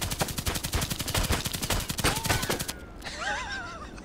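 Video game gunfire in a rapid, evenly spaced stream of sharp shots, loud and close, stopping abruptly near the end and followed by faint whistling, warbling tones.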